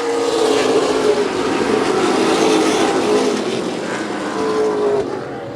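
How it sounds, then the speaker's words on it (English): Race cars roar around the Wiscasset Speedway oval, a loud, continuous layered engine drone that swells and fades slightly as the pack passes, with no voices heard. "Both those two cars are definitely able to pull away from Jamie Wright"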